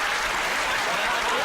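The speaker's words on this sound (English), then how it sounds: "One word gets a round of applause." Studio audience applause at a comedy panel show, a dense continuous wash of clapping, fairly loud and close, with no clear talk over it.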